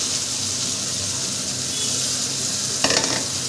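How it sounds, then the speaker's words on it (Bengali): Pre-fried potatoes drop into a pan of spicy masala simmering in released oil for a Bengali spicy mourala fish curry, giving a steady close sizzle and a brief burst of clattering and hissing near the end. "এবার আমি ভেজে রাখা যে আলুটা ছিল সেটা আমি এর মধ্যে দিয়ে দিলাম"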